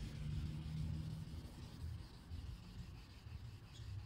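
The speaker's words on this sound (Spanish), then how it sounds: "Va a ser una lijada relativamente sutil." Soft, steady rubbing of light sanding on smooth car paint clear coat, removing orange peel, quiet and close, with gentle back-and-forth strokes and no talking.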